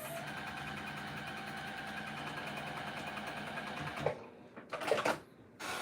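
Close sewing machine top stitching an apron pocket, a steady fast mechanical whir for about four seconds, then stopping and restarting in short bursts.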